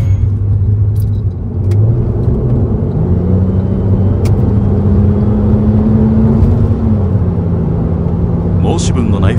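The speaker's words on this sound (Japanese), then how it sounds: "申し分のない吹き上がり" A Porsche 996 Carrera engine hums steadily at close range on a highway, its pitch rising and falling smoothly as it revs, with continuous road rumble throughout.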